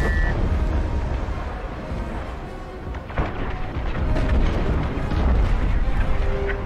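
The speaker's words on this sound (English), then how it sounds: "The frigate is about to explode." A frigate explodes in the Star Wars Squadrons space combat game, a loud, continuous rumbling roar with deep booming low end and a sharper crack near the middle, sustained throughout with faint game voices beneath.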